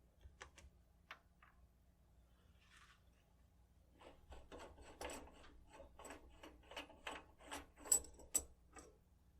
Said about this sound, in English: To do so on the lathe, I'll remove the collet.